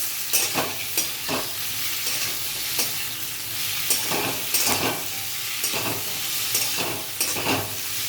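Capsicum and tomatoes fry lightly in butter in a pan, a steady close sizzle broken by repeated scraping stirs of a spatula, with no voices over it.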